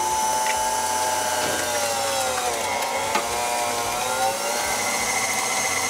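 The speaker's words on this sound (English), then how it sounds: "So we'll move over to the grinder." Meat grinder working through ground meat and cheap bacon, a steady continuous mechanical whir and grind with faint rattling, close and even in level throughout, with no talking.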